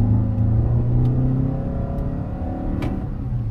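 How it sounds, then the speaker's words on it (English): A 2021 Toyota Sienna Limited minivan in sport mode accelerates, its engine rumbling and rising steadily with a faint electric CVT whine, loud and close throughout. "now I found a good little place for us to do a little acceleration"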